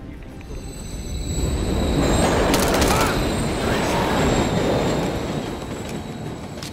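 A train rumbles past in a Call of Duty: Modern Warfare III campaign level, its sustained roar swelling and fading with metallic wheel squeal on top, loud and close throughout.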